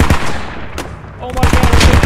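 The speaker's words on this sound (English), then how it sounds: "We attracted the 30 mil machine gun or the dish gun." Loud, rapid bursts of a 30 mm machine gun fire in a realistic squad-based shooter video game, with heavy chattering volleys at the start and a harder, thudding stretch near the end.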